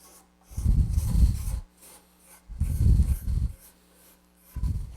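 A card scraper smooths an end grain wooden cutting board in three slow, rasping strokes, close and distinct with quiet gaps between them.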